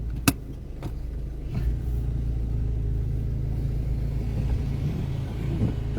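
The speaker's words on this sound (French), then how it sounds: "parce qu'il y a une voiture qui passe" A car passes along a street, its low engine rumble and tyre noise holding steady and fairly close for several seconds, with a couple of brief sharp knocks near the start.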